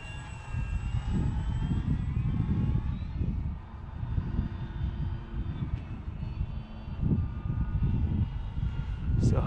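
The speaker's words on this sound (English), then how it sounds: "Cool plane, man." An FMS Pitts 1400mm RC airplane flies on its maiden flight, its propeller motor whining steadily through passes that swell and fade with distance, with no talk over it.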